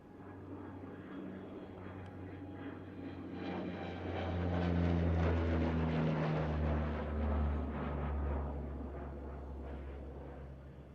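A firefighting skimmer aircraft passes over a wildfire near Peachland, its engine drone rising from faint to a louder peak midway and then fading back, heard from a distance without speech.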